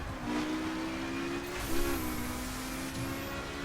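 BMW M4 engine in the racing video game The Crew, accelerating hard with a steady, fairly loud engine drone and a brief surge partway through, with no talk.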